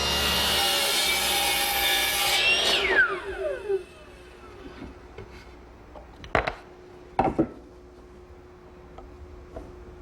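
A tapering jig on a table saw cuts a 1¼-inch-thick fir piece: a loud, steady whine that spins down after about three seconds, then quieter knocks and clunks of wood being handled.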